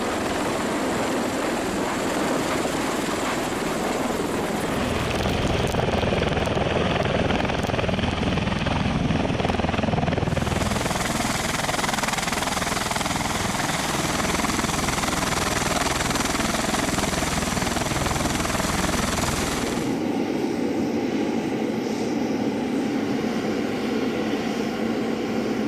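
A US military V-22 Osprey tiltrotor aircraft drones loudly and steadily overhead at sea, its rotor roar shifting in tone as it passes, with no speech.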